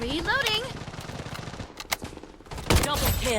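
Rapid automatic gunfire in the shooter game Blood Strike, loud and close in dense bursts with synthetic game effects, a voice talking over the shots.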